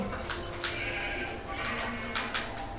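Sheep in the video game Minecraft bleat in a few short, moderately loud calls over steady game background sound.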